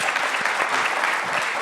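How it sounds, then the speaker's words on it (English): An audience at a private-sector strategy conference session gives the guests a brief round of applause, a dense burst of clapping at steady volume. "Let's give our guests a round of applause."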